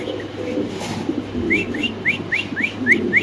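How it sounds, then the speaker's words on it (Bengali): A male pigeon calls in a pet pigeon seller's loft: a quick run of about seven short, rising whistled notes in a steady rhythm, close and fairly loud over soft background noise. "ওই পাশে নট ডাকতেছে এই পাশে নট ডাকে"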